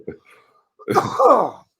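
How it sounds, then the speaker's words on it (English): A faint short noise, then a single rough, harsh cough from a person nearby, close to a throat clearing. "I apologize for the cough"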